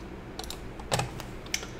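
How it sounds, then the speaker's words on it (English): Sparse typing on a computer keyboard: a handful of light, separate key clicks spread over a couple of seconds, fairly faint over a low background hum. "I'm gonna hit the up arrow on my keyboard"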